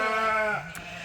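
A single ewe gives one loud, wavering bleat nearby that tails off after about half a second, with no voices.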